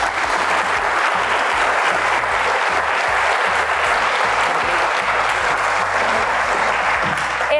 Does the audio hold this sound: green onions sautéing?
no